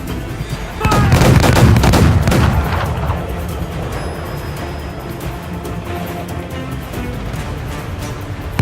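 Ship cannons firing in Assassin's Creed 4: Black Flag, a loud cluster of booming blasts that swells over a couple of seconds, then fades into a rumbling, crackling battle din.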